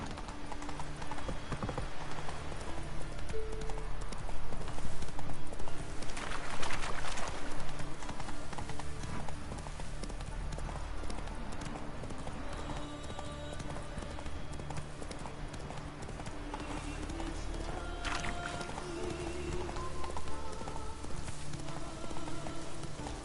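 Hooves of the horse Roach clip-clop steadily at a walking pace in the game The Witcher 3, a continuous rhythm running throughout beneath ambient background sound and faint music.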